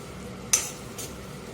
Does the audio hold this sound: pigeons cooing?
no